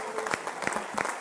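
A church congregation clapping hands in praise during a sermon, a quick burst of several loud, sharp claps with a preacher's voice running underneath.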